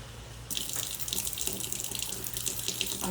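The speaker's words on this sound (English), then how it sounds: "I'm going to put plain water with no salt, no seasoning, no nothing." Plain water gushes from a tap into a pot of stewed chicken, a steady, fairly close splashing rush that starts abruptly and runs on unbroken.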